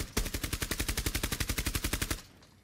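Rapid automatic gunfire in Rainbow Six Siege, a steady burst of about twenty loud, evenly spaced shots over two seconds that then cuts off, leaving a faint tail with no talking.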